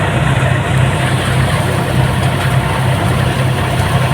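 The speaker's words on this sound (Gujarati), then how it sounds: "આ છે ટ્રેક્ટર" A Massey 7250 DI tractor engine idling near a thresher, a loud, steady diesel chug with a low throbbing hum that holds even and unbroken throughout, close by, with no talking.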